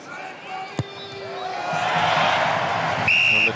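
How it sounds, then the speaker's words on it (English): Crowd at Stade Francais swelling into a cheer after a successful rugby kick at home to Perpignan in the Top 14, rising from a murmur to a sustained roar, with a whistle blast near the start and a tone near the end. "And the cheer rings around the Stade Francais"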